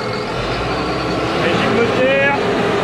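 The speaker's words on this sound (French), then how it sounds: "Allez, prise de force." A farm tractor engine runs with a loud, steady rumble as the power take-off engages during maize sowing in the field, with a faint rising whine near the end.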